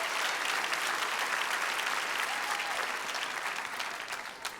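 A congregation at an evening worship service in a church breaks into sustained, dense applause that fills the room loudly, then gradually tapers off.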